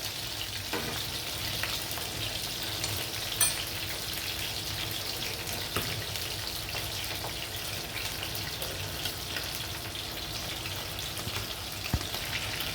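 Chicken pieces fry in a moderate amount of oil, giving a steady, dense sizzle and crackle with occasional sharper pops, close and continuous throughout.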